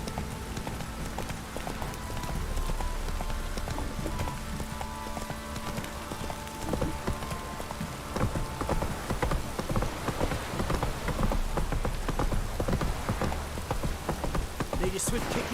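Steady rain pours in The Witcher 3: Wild Hunt, a continuous hiss of drops while a horse's hooves clip-clop along underneath, with a faint voice now and then.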